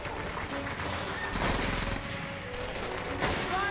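Gunfire in the World War II shooter Medal of Honor: Vanguard, dense continuous bursts of automatic weapons over a loud, unbroken din of battle, with no clear speech.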